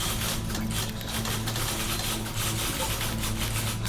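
Many stationary typewriters clack in overlapping bursts in the video game The Beginner's Guide, a dense, steady mechanical rattle that runs continuously at moderate volume with no voices.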